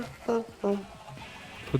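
Sheep in Minecraft bleating twice in quick succession with short, nasal calls, heard amid voices talking in a game session.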